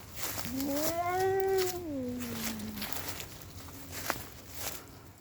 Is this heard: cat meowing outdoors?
yes